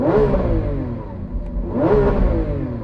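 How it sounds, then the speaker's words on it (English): Lamborghini Aventador Ultimae V12 engine revved twice, each rise swelling to a loud, harmonically rich roar and then falling back, close up with no talk. "Now for the Ultimae. I'm going to rev this up."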